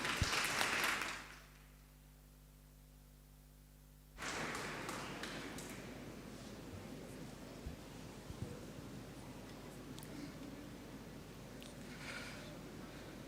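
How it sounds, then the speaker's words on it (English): An audience claps at a Model United Nations opening ceremony. A short burst of applause breaks into near silence with a low electrical hum, then steady, fairly distant clapping resumes and carries on to the end. "I would like the House to have a louder round of applause."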